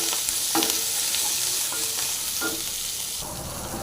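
Manila tamarind pods fry in a pan with coriander leaves, giving a steady broadband sizzle broken by a few spoon scrapes and stirs, close and continuous, with no voices.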